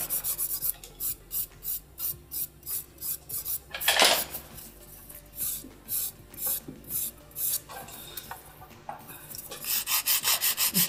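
Rapid rhythmic rasping as an acrylic nail with clear builder on it is filed at close range, short regular strokes repeating steadily throughout with a brief louder scrape partway through.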